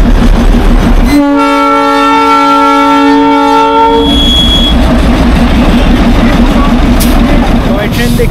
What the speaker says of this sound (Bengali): ট্রেনের ইঞ্জিনটাও এই সাইড থেকে চলে এলো এই দিকে